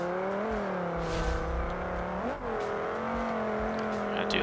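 A drift car in the BeamNG driving game revs hard and steadily, its engine note wavering up and down with a sharp dip and surge as the clutch is kicked, loud and continuous with faint tire noise.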